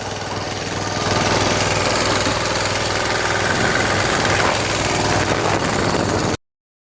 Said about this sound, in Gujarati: ટ્રેક્ટર હાલે જોરદાર, જોવો તમે એકવાર